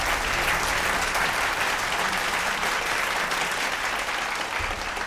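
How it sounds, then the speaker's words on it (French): An audience at a fashion competition applauds a contestant leaving the contest, with sustained, even clapping from a large crowd. "Tous nos applaudissements nourris, s'il vous plaît."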